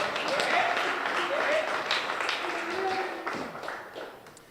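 An audience at a poetry slam keeps up steady applause and scattered cheers that fill the room at moderate volume, tapering off toward the end, with a host's voice over it.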